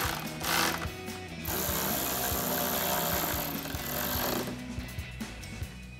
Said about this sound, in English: take a 10 millimeter socket to tighten down our two bolts